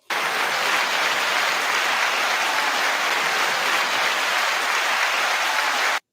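Sustained applause fills about six seconds at a steady, dense level, a continuous wash of many clapping hands with no voices over it, then stops abruptly.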